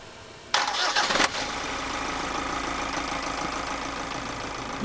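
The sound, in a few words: engine starting up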